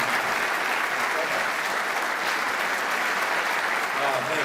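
Sustained, dense applause from a large audience at a character awards ceremony, steady and loud for the whole stretch with no letup or separate voices standing out.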